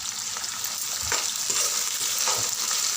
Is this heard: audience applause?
no